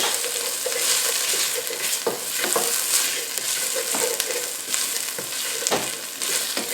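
Toasted tomato paste and vegetables stirred in a hot pan, giving a steady close sizzle with repeated scraping strokes of the spoon across the bottom, no talk.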